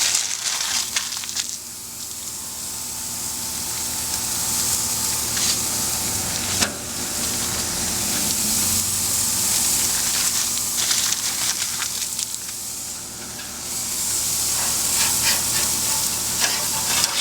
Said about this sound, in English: Ooh, you listen to it sizzle?